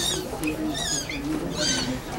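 Children's voices imitate a mouse with high-pitched squeaks in two quick clusters, heard over a soft background of voices.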